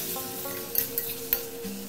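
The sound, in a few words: fried pointed gourd added to sizzling masala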